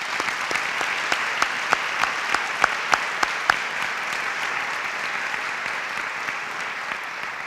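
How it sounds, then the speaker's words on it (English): An audience applauds student volunteers with a steady wash of clapping, while a few loud, sharp individual claps stand out in a regular rhythm near the front before the applause carries on evenly. "Can we give them a round of applause?"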